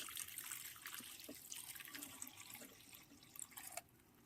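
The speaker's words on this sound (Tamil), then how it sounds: "இப்போ வந்து இதிலே வந்து நான் காய்ச்சி வச்சுருக்கிற பாலை ஊற்ற போகிறேன்." Boiled milk poured into a pan while making bread halwa gives a continuous splashing liquid stream with small gurgles and a faint clink near the end, close and fairly quiet.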